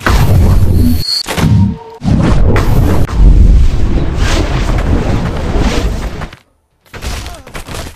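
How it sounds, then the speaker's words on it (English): A gravity bomb from a chaos magic spell in Blade and Sorcery erupts as a heavy, thunderous boom with rolling rumble and crackle, loud and sustained for several seconds, dropping out briefly before resuming. "Sends out a huge fucking gravity bomb"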